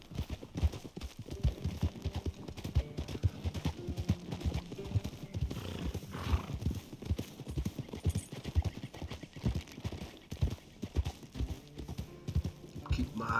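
Horse galloping in the video game Red Dead Redemption 2, rapid rhythmic hoofbeats pounding continuously with an occasional whinny, while people talk at points.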